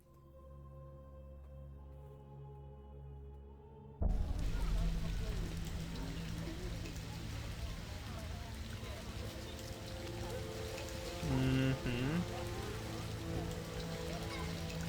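Rain falls in The Witcher video game, an even hiss of drops that starts abruptly after a few seconds of soft low tones and continues steadily, with a brief murmur from a voice.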